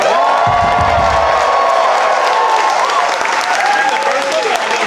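A comedy club audience at a New York one-liner show roars with sustained applause and cheering, dense and loud throughout, with whoops rising above the steady clapping.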